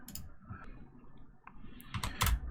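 Several computer keyboard key presses during Unity game testing, scattered clicks with a quick cluster near the end, close and fairly quiet over faint background noise.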